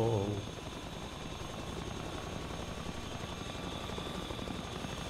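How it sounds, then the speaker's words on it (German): A helicopter in the video game The Front gives a steady, fairly faint rotor drone throughout, with a low thumping beat under a broad engine hiss. There is no talk. "Oh, da unten ist ein Heli."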